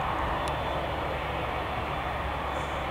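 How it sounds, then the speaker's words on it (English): An Emirates A380 airliner departing Birmingham airport gives a steady, loud jet engine roar that fills the whole stretch with broad rumble, with no voices over it. "The Emirates A380, the world's largest passenger plane."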